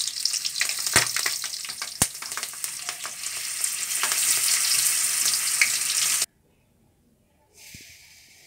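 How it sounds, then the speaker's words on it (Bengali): Potatoes, slit green chilies and panch phoron fry in hot oil with a loud, steady sizzle and a couple of sharp clinks, then the sizzle cuts off abruptly, leaving near silence before a softer hiss returns. "তেলটা একটু গরম হলেই আমরা দিয়ে দেবো পাঁচফোড়ন আর কাঁচা লঙ্কা চিরা কাঁচা লঙ্কাগুলোও দিয়ে দেবো, সাথে আলুগুলোও দিয়ে দেবো"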